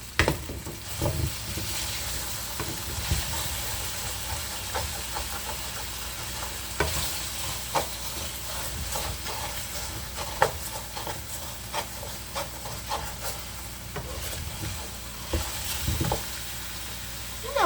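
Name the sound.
potatoes sautéing in a pan for Peperonata Calabrese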